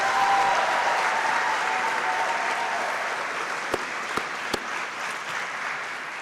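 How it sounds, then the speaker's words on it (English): Sustained applause from an audience at a youth guard graduation ceremony, dense and steady clapping that gradually softens, with a few sharp louder claps near the end. "round of applause"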